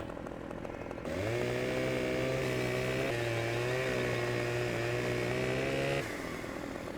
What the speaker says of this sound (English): Turn my chainsaw back straight.